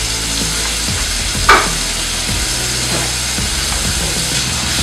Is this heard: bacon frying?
yes